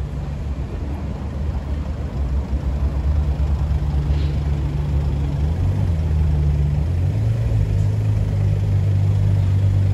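A Ferrari 812 Superfast pulling out of a parking garage in Paris, a loud deep engine rumble that holds steady and then rises in pitch as it moves off, with no talking.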